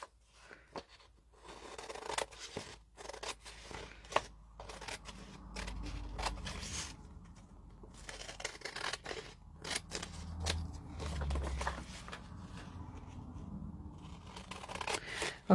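Scissors snip and trim paper for a faith-themed junk journal in a run of short, close, irregular cuts, with paper rustling and light handling noises between them.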